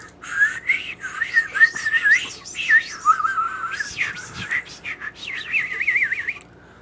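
A person whistles with the mouth in a warbling, bird-like melody of quick pitch slides and trills, close and fairly loud, with short pauses between phrases.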